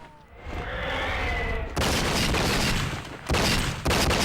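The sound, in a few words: gunfire in the video game True Crime: Streets of LA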